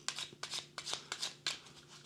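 Splendor board game noble tiles are shuffled by hand in a quiet room, producing a quick rhythmic series of about six soft clacking and sliding bursts, close and clear.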